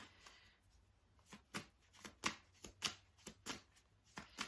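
A deck of tarot-style angel cards is shuffled by hand at close range, a series of quiet, crisp riffling snaps and flicks repeating in an uneven rhythm against a soft, low background hum, with no voices.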